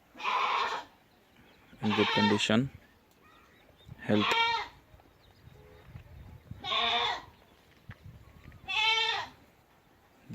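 Goats bleat in a shed on a goat farm, several loud drawn-out calls in a steady series with pauses between them, someone talking quietly underneath.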